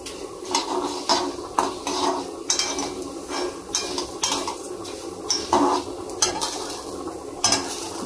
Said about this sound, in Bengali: এখন একটু মুগের ডাল করছি।